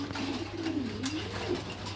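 Domestic pigeons coo in low, rolling, repeated calls, close by and steady, under a constant low hum and with no talk.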